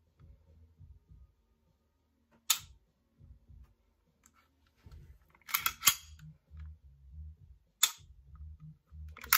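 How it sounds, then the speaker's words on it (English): A pistol fitted with a SIG Romeo Max sight and a reworked trigger fires four sharp, separate shots, two of them in quick succession, each cracking out over quiet low handling noise. "Shooting the SIG Romeo Max. And also a nice trigger job done."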